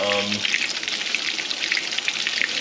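Barracuda fish frying in hot oil: a dense, steady crackling sizzle, close and loud, after a short tonal beep at the start.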